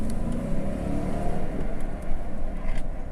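A supercharged Lexus LX570 engine revs hard in one loud, continuous, throaty roar that holds steady for a few seconds, close by and with no talking over it.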